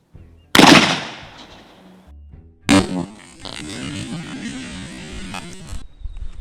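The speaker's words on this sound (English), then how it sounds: "Watch me shoot some more stuff." Two sharp, loud Krag-Jorgensen rifle shots about two seconds apart, each a sudden crack followed by a rumbling echo that trails off.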